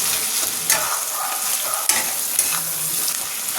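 Onions frying in hot oil in a pan until browned, with a steady close sizzle and repeated scraping, stirring clicks of a utensil throughout.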